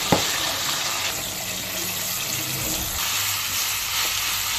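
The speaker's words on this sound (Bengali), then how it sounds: "এই তেলে আলু ভেজে দেব।" Potatoes frying in hot oil give a continuous close, even sizzle with a bubbling hiss throughout, opening with a small clack and carrying no speech.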